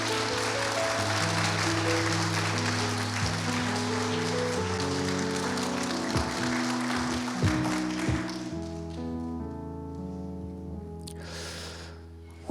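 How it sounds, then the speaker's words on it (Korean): A church congregation at a Korean revival service claps loudly to welcome the pastor, a dense, sustained wash of applause over a low musical drone that thins out and fades after about eight seconds. "우리 목사님 또 인사 나오실 때 크게 박수로 환영해 주시길 부탁드리겠습니다"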